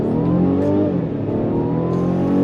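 A 2022 Mercedes E350 4MATIC pulls hard from a standstill, its turbocharged engine droning and rising steadily in pitch, loud and close from inside the car with no talk over it.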